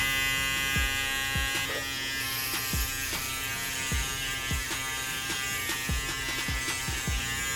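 An Andis Resurge electric shaver buzzes steadily and close up, with a constant high hum and faint rhythmic clicks repeating roughly every half second.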